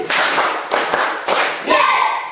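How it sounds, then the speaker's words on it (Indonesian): A classroom of pupils performs a rhythmic group clap in a lesson, with four loud, full bursts of clapping in quick succession, close and alone without talk. "Ulang, baru sebentar. Tepuk 5 satu kali."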